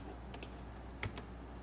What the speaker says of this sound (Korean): 키보드 U를 클릭한 후